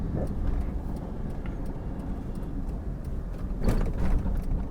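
Car interior at low speed with a beginner driving in second gear: a steady low engine and road rumble throughout, swelling briefly louder near the end, with no voices.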